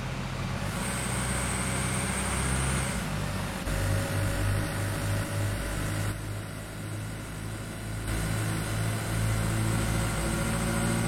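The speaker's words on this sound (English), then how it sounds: "The engine sounds from the outside sound brilliant." A car engine idles steadily outdoors, heard from outside the vehicle as a continuous low rumble at moderate level with a few brief shifts, and no talk over it.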